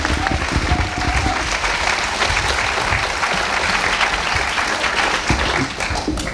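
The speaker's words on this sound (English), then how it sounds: "So can we have another clap for Zahra?" Audience applause at a talk session for a speaker, loud continuous clapping from a sizeable crowd held steady for several seconds without speech.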